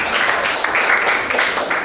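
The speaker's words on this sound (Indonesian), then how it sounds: "kita tepuk tangan" A classroom audience claps together after a group presentation at a teacher-training session, a brief burst of dense, even applause heard fairly close throughout.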